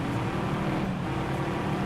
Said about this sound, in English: Oh, it's got a very deep sounding engine here